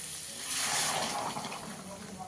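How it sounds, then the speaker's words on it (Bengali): Hot water poured into a pan of potato curry with fried spices, a steady close splashing hiss that swells briefly, then ends with a sharp clink. "এখানে আমি গরম জল করে রেখেছি দিয়ে দেবো"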